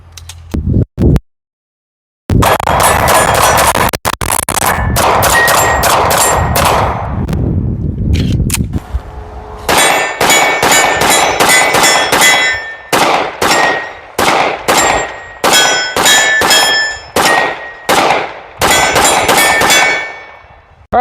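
Shots from a Viking Firearms rifle with inline porting ring out at a range, each crack followed by bright metallic clangs off steel targets, first a dense string, then a pause, then a long run of rapid, evenly spaced hits, loud and close.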